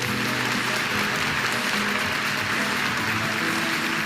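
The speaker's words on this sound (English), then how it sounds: "So if you would give a warm round of applause for Mr. Moshe Rappaport from IBM." An audience applauds a speaker: an even, continuous patter of many hands clapping, moderately loud and unbroken, with no voices over it.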